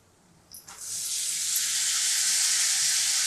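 Washed val bean pods dropped into a hot pan with turmeric and masala, a brief clatter followed by an abrupt loud sizzle that swells and holds as a steady, close hiss.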